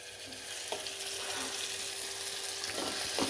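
Pasta is stirred in a pan over a raised gas flame, giving a constant bright hiss with a few soft scraping strokes near the start and end.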